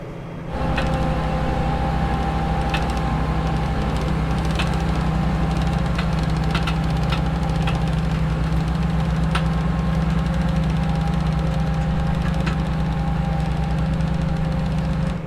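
A new tiling excavator's diesel engine runs steadily in second gear at about 1300 RPM, with a loud, constant low drone and rhythmic knocking that hold from start to end, along with faint higher clanks.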